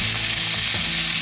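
Tenderloins of wild boar or whitetail deer fry in a pan, a loud, dense, continuous sizzle with bright hissing spatter close up and no voices.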